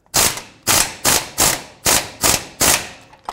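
Ratchet wrench tightening exhaust hanger bolts under a Ford F-450 Super Duty: seven sharp, evenly spaced metallic bursts of clicking, each pull a quick rasp with a short decay, close to the microphone.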